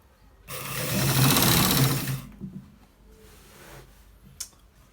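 A sewing machine stitches the end of a collar shirt in one sustained burst of rapid mechanical whirring up close, followed by faint clicks and a brief tick as it stops.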